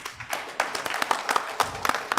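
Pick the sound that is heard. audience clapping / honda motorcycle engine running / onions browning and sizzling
audience clapping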